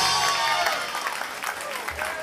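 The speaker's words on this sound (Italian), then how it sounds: "vogliamo un applauso gigantesco" A crowd at an outdoor heavy metal concert at a motorcycle rally applauds the drummer, a brief burst of clapping and cheering heard fairly close, with some voices in the mix.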